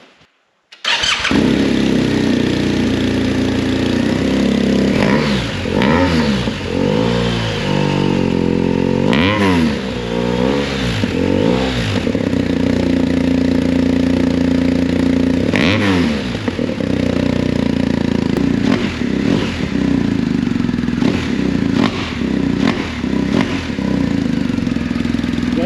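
A 2022 BMW R 1250 GS Adventure fitted with an Akrapovic full racing exhaust starts up and idles loudly, with repeated throttle blips rising and falling in a deep, burbling roar heard up close and without talk.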